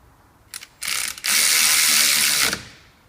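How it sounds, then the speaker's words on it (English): Ratchet with a 13mm socket tightening brake bolts on a Citroen C2 1.1 front brake job: a few quick clicks, then a loud, steady, close rasping ratchet run lasting over a second, no voices. "Use a normal ratchet."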